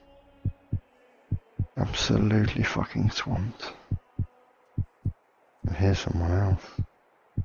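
Steady heartbeat thumps from a low-health player in the VR game In Death, evenly spaced and close, pausing under two stretches of someone talking.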